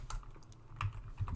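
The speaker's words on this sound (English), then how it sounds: "I'm failing with the typing." Quick typing on a computer keyboard during a binary arithmetic lesson, a close cluster of light key clicks in an uneven rhythm, with no talking over it.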